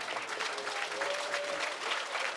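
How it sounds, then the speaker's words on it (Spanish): Audience applause for Cuba at a live concert in Sofia, a dense, steady wash of many hands clapping at even loudness, with a faint whistle-like tone drifting through. "Aplauso para mi pueblo"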